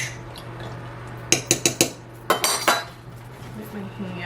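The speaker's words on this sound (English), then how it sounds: "give that a good stir." A homemade Florida water mixture with oranges is stirred in a container, producing two quick bursts of clinking, clattering knocks that stand out over a quiet background.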